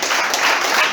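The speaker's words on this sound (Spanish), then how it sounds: "Dale un aplauso a la palabra del Señor." A church congregation breaks into loud, dense applause, a brief continuous burst of many hands clapping together.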